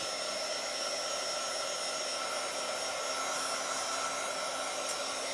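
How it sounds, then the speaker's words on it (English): A heat tool blows steadily to dry paint on a Bible journal page, a continuous loud broadband whoosh with a faint high whine, held evenly throughout with no talking. "I'm gonna quickly dry this."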